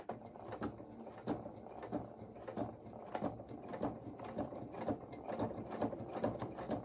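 Stitching coveralls for a Luna Lapin doll along Velcro edges, a sewing machine hums quietly and continuously with a soft, regular mechanical ticking throughout.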